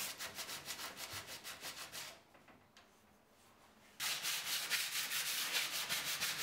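Hand sanding filler patches on an MDF bookcase, rapid rhythmic back-and-forth rasping strokes, close and loud, pausing for about two seconds mid-clip before resuming.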